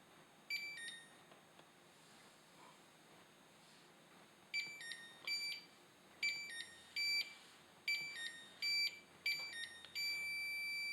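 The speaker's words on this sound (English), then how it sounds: "Now it's going to beep for 30 minutes while it's in forced defrost mode" A Samsung refrigerator in forced defrost mode gives off a series of high electronic beeps in short grouped bursts, with a longer steady tone at the end, heard close up against a quiet background and no talking.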